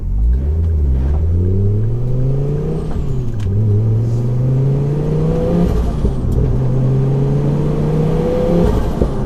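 A 540bhp Ford Focus RS MK2 drives hard, its engine droning loud and close as the revs climb repeatedly through gear changes, with road noise and rattles from the cabin throughout.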